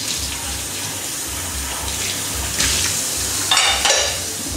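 Tap water runs steadily while a pan is rinsed at a kitchen sink during cooking, a close continuous wash with a louder splashing burst near the end.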